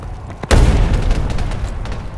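A grenade goes off in the Ghost in the Shell: First Assault shooter game. A short click comes first, then a heavy, booming blast that decays into a rumbling roar.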